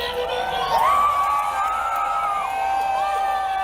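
A concert audience screams and cheers loudly and continuously, with high excited shouts rising over a dense crowd roar throughout.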